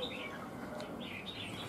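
A red-whiskered bulbul calls in short, bright chirping phrases during a songbird showing, set against a steady, noisy background hiss.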